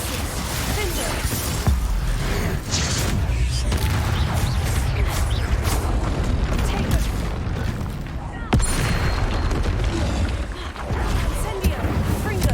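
Bombarda spell blasts in Hogwarts Legacy: dense, loud, continuous combat noise with repeated booming impacts and crashing debris throughout, with no break in the chaos.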